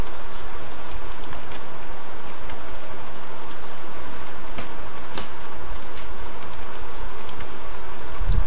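Steady, dense buzzing of killer bee hives in the video game Don't Starve Together, a continuous insect drone with faint ticking, holding evenly throughout with no voices.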